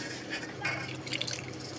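Water is poured little by little into semolina (rava) dosa batter in a home kitchen, a soft close trickle and light splashing at low volume.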